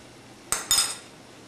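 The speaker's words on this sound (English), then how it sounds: "we'll chop our avocado" A knife chops an avocado inside its skin in a dish, giving two quick, crisp clinks of metal on the dish, close up in a quiet kitchen.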